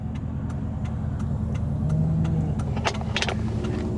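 A 2001 Ford Lightning pickup with 80,000 miles runs as a steady low engine rumble that stays close and even throughout, with a few light metallic clinks near the end.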